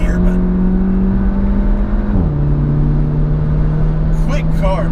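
A 400 HP big-turbo Audi A3 2.0T with a RevoTechnik setup drives hard on a track, its engine a loud, steady in-cabin drone that drops in pitch at a gear change midway, with a voice briefly heard near the end.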